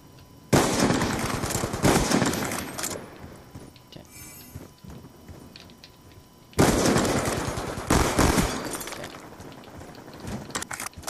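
Bursts of automatic gunfire from a Black Ops 2 free-for-all match, two loud dense rattling volleys separated by a quieter gap with faint clicks and game effects.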